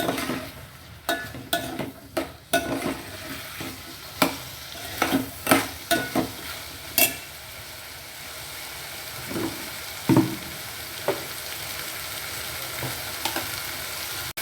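Boiled double beans sautéing in a pan over a soft sizzle, interrupted by a series of sharp spatula clinks and scrapes against the metal, close and alone.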